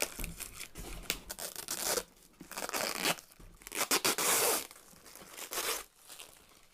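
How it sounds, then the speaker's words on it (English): Plastic film is peeled and torn off a new Amazon 16 egg incubator in close, crinkly bursts of tearing and rustling, with brief pauses between pulls. "So now we're just going to remove this plastic."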